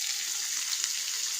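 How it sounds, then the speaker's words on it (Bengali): Cubed paneer frying in ghee gives off a bright, steady sizzling hiss, close and unbroken, with no other sounds over it. "দেখো এবার এটাকে ঘিয়ের মধ্যে ভাজবো।"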